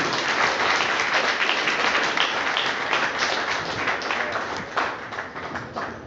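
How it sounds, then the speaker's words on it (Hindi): Applause from the audience at an RCM business event, a dense, steady wash of many hands clapping together, loud and sustained. "एक बार जोरदार वाली ताली दीजिए।"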